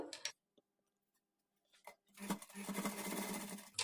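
A sewing machine stitches a blouse sleeve in a short burst after a near-silent pause, preceded by a few clicks and handling taps.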